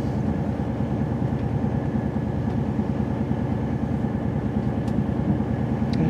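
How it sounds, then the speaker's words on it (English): A steady low rumble of a passing train, with rolling rhythmic clatter holding constant throughout and no voices. "There's a train there."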